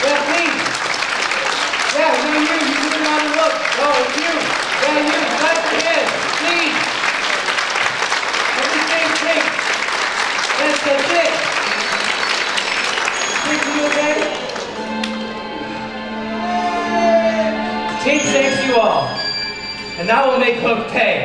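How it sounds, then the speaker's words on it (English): An audience claps along at a high school performing arts Peter Pan musical, steady crowd clapping under singing and music for most of the stretch, with voices and melodic tones rising over it in the latter part. "Everybody here, please, clap your hands."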